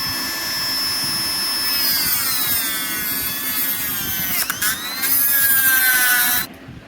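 A Dremel rotary tool cutting wood, a loud high-pitched motor whine whose pitch dips under load as the bit bites, briefly breaks off, then resumes before stopping abruptly, no talk.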